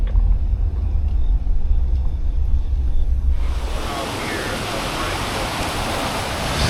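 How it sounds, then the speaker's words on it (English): A waterfall roars at a scenic stop in the Smoky Mountains, starting as low, wind-buffeted rumble near vehicles, then opening into a broad, bright steady rush of falling water. "Check out that waterfall."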